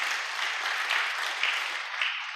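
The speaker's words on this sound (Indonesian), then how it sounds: "Tepuk tangan buat Tuhan kita yang besar" Steady applause from a church congregation during a Sunday service, a dense wash of clapping that holds at an even level throughout with no voices rising above it.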